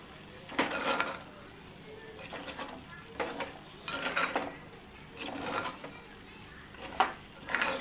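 A spoon stirs sorakaya pappu, a bottle gourd dal curry, in a pan: soft scraping strokes come in repeated bursts with gentle simmering between them, close and fairly faint.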